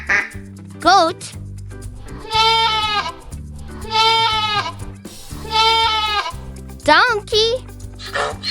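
Three drawn-out, wavering goat bleats, loud and close, separated by short pauses over a light children's music backing, with brief vocal calls at the start and end.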